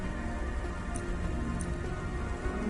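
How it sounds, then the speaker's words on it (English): Steady rain falls in the cyberpunk city of the video game Cloudpunk, a dense even patter with a faint occasional tick, continuous and moderately quiet with no voices. "Don't let all the rain get you down."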